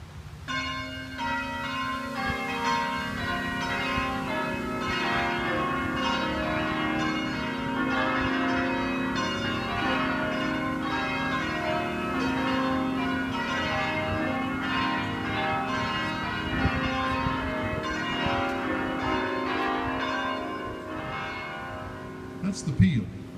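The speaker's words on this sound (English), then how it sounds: "But you came to hear the carillon," John C. "Jay" Barker Memorial carillon bells ringing in a steady, dense cascade of overlapping tones that sustains loudly throughout, with a sharper accent near the end.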